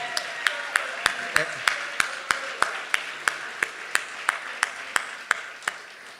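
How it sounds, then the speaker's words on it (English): Applause at a distinguished lecture and jazz concert evening, heard as rhythmic, evenly spaced claps at moderate distance over a soft crowd wash, steady throughout with faint voices in the background. "give them a round of applause"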